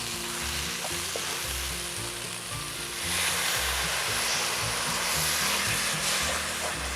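Chicken curry masala sizzling in a pan as it is stirred with water added, giving a loud, steady frying hiss with rhythmic scraping strokes and a low background hum throughout.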